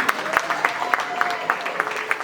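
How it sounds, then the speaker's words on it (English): Scattered clapping from a small crowd at a charity dinner, with sharp claps popping out in an uneven rhythm, fairly close and moderately loud. "A round of applause for Ivana."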